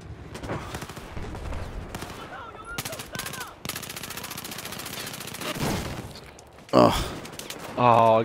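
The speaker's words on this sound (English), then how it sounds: "Oh, I got shot from the other side." Rapid bursts of automatic gunfire and single shots crack through a Battlefield 4 match, loud and irregular, with a voice talking over parts of it.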